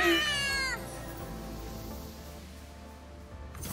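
A cat meows once from a Kitty Cat card in a video game, a short tonal cry at the start that then fades into steady game background sound.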